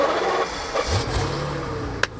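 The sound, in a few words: BMW Alpina V12 engine starting up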